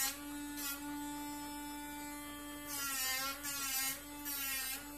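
Rotary Dremel tool grinding a dog's nails back during pre-groom trimming, a steady close motor whine with harmonic tone that rises to harsher bursts each time the bit bears down on the nail.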